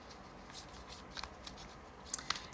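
Tarot cards being shuffled by hand, with soft riffling and light papery flicks in a quiet room, faint and close with no talking.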